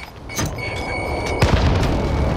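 A grenade goes off in a military shooter video game, a single loud boom about halfway through that sits over ongoing game noise and rolls into a rumbling tail.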